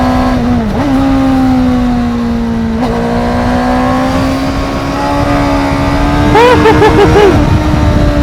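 Honda CBR600RR motorcycle revving close up on a ride through traffic, a high rising engine tone with quick throttle blips and gear changes, loud over wind noise, no talk.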